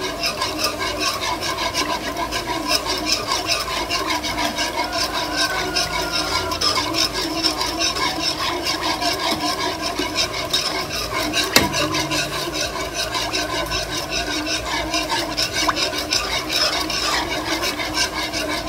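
A spoon stirs a gulaman dessert mixture in a pot on the stove, making a continuous scraping, rasping swirl that holds steady throughout with one sharp clink partway, close and moderately loud.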